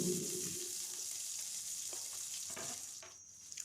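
Green chilli, onion and curry leaves fry in a bowl of oil with a steady, close sizzle and a few soft stirring scrapes, with no voices.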